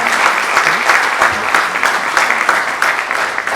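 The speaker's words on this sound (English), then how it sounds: "Please keep clapping until he comes here" Audience at an energy symposium applauding as the keynote speaker comes up, a dense, continuous wall of clapping that stays loud and even throughout.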